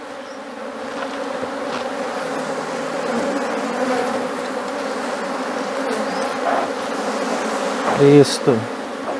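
A swarm of honeybees hums around an opened hive box during a colony split, a dense, steady close buzzing throughout with a few louder passes near the end and a brief spoken word.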